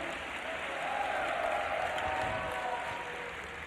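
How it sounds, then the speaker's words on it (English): Crowd at a live League of Legends esports match between TSM and Legion applauding and cheering, a steady wash of clapping that swells slightly and holds throughout, with a faint voice beneath. "The crowd is enjoying."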